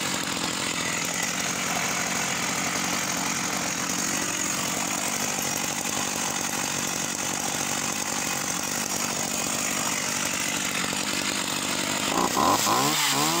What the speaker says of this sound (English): Let me show you how she runs.